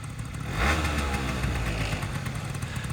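A Honda Dio AF-34 scooter's new carbureted engine idles steadily up close, a continuous low rumble with a brief swell early on, no voices.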